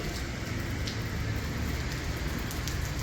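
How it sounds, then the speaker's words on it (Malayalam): Steady rain falls in a dense, even patter on a nearby surface, continuous and close with no talking. "മഴ പെയ്യുന്നുണ്ട് കേട്ടോ, എപ്പോഴും നല്ല മഴ തന്നെയാണ്."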